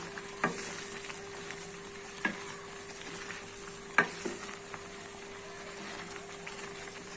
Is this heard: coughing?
no